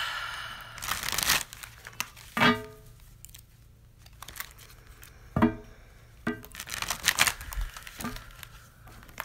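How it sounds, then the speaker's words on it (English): Tarot cards are shuffled and slapped on a table in several separate bursts, with soft crinkly riffles and quiet pauses between them. "We'll give it a few shuffles on the table"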